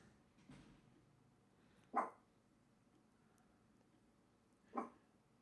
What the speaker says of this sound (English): Dog's very small, but very angry.